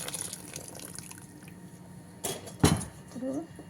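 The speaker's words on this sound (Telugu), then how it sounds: "చూడండి, వాటర్ కూడా వడపోసేస్తుంది" Water is strained off cooked mutton, a soft trickle and splash with a brief louder pour near the middle, close by, with a voice speaking over it.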